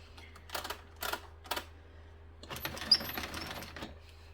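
An Addi knitting machine cranks out stitches: three short mechanical clacks, then a longer run of steady clattering rattle, close and moderately loud with no talk.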